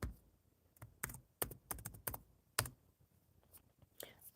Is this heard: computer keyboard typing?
yes